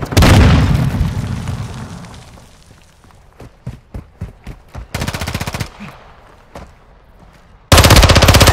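Grenade blast and gunfire in Call of Duty: Modern Warfare 2, opening with a loud boom that rumbles away, then a run of sharp individual shots and a dense rapid burst, ending with another loud blast.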